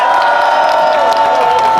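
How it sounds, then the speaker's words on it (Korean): Outdoor political rally crowd cheering and clapping against prosecutorial overreach, a loud dense wash of voices and applause with shouts mixed in, continuous and near throughout. "여러분 박수 한번 쳐주십시오."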